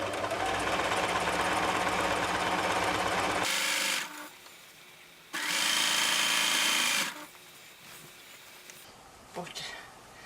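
A sewing machine with a ruler foot quilting a large bargello quilt runs in two loud, steady whirring bursts separated by quieter pauses.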